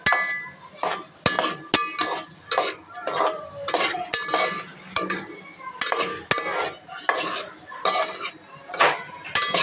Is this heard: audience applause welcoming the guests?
no